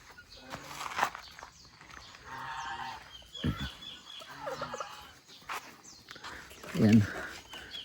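Turkeys gobble among geese on a farm, bird calls rising in bursts with a louder cry near the end, while a person talks over them.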